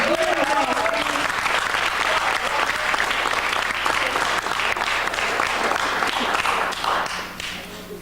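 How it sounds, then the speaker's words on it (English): A crowd of listeners at a poetry event applauds poets in a loud, dense burst of clapping that carries on steadily and thins toward the end, with a voice faintly under it. "let's give these poets a round of applause"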